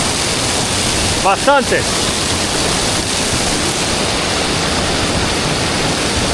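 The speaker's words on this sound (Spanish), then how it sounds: "Ahí cae mucha agua por la escalera esa." A lot of water cascades down a stone stairway in a jungle village in Peru, giving a steady, dense rushing roar throughout; a person speaks a single word briefly partway through.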